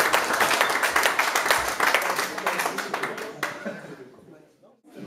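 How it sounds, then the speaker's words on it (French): A crowd applauds a martial arts fighter after his bout, dense clapping filling the first few seconds and then thinning out and fading toward the end, with some voices mixed in. "il nous salue, on peut l'applaudir bien fort"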